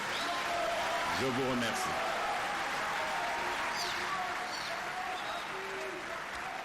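Sustained audience applause after a presidential speech fills the hall as a dense, steady clatter of clapping, with a voice briefly heard over it.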